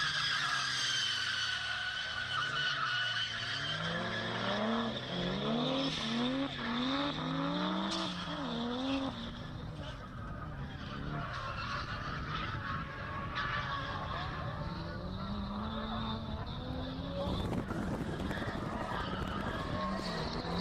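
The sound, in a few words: Nissan Laurel drift car skidding in a drift battle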